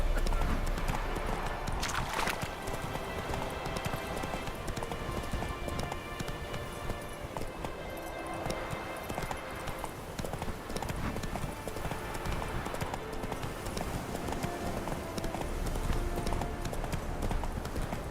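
Roach, the horse in Witcher 3, trotting with a steady rhythmic clip-clop of hooves throughout, close and clear, under game ambience and occasional spoken dialogue.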